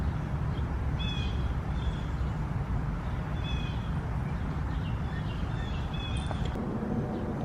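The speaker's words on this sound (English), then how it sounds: "Do you guys hear all these birds?" Backyard birds calling, scattered short chirps and whistles over a steady outdoor background hiss, moderately distant.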